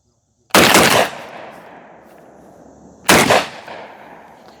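A JTS M12PT-1 shotgun fires offhand outdoors; two loud, sharp blasts spaced about two and a half seconds apart are heard, each with a long rolling echo trailing off.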